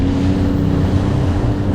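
Sea-Doo Fishpro Trophy jet ski pounding through rough rolling waves at an inlet, a loud continuous engine drone mixed with wind buffeting and water rush, close and unbroken.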